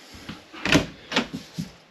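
A pull-out drawer in the kitchen of a 2026 Grand Design Solitude 380FL fifth-wheel RV is worked, giving a few close sliding rumbles and soft thumps in quick succession.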